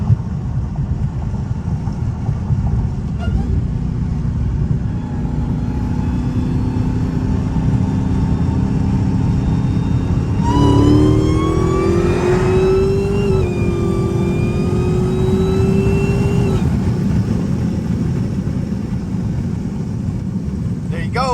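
An 850 WHP Hellcat 300 does a 60 roll in third gear, its engine surging from a low rumble into a loud, rising roar that climbs sharply for several seconds before backing off, while someone talks over the drive.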